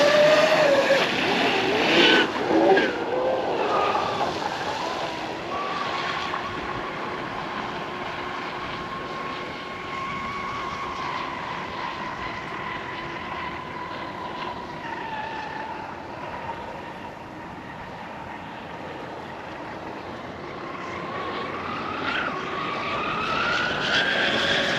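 High-pitched whining motor of a Pro Boat Blackjack 42 RC speed boat fitted with trim tabs, steady and buzzing, its pitch shifting as it passes on the water, loud and fairly close.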